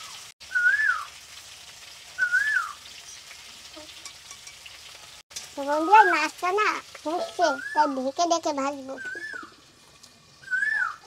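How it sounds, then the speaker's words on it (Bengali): An Asian koel calls outdoors with short, clear whistled notes, first two isolated calls and then a faster rising series, heard over a faint sizzle of fish frying while a person talks. "কোয়েলের আওয়াজ শুনতে হ্যাঁ, পাচ্ছো?"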